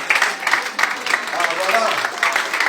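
A church congregation applauds together in a reverberant hall, a dense, steady patter of many hands with a voice speaking over it.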